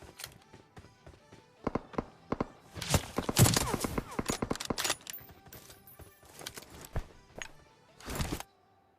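Gunfire in the video game PUBG comes as scattered sharp shots and quick bursts, some clustered in rapid volleys, with quieter gaps between them.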